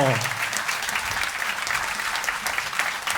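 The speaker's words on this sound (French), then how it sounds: "c'est Anna qui va revenir sur scène sous vos applaudissements" Concert audience clapping as a singer returns to the stage, a steady, lively round of applause heard close up, the tail of a voice fading out at the start.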